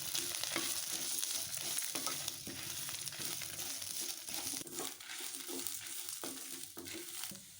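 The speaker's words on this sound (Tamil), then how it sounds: "எல்லாம் போட்டு வறுத்துக்கலாமுங்க" Garlic, grated coconut and spices fry in a pan for a curry-leaf kuzhambu, giving a steady close crackle with stirring scrapes and small rustling bursts, no talking.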